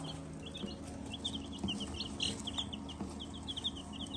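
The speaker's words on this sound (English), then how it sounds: "Healthy, happy chicks." Young chicks about two weeks old cheep in quick, high, repeated peeps against a low background hum, fairly faint and close, with no talking.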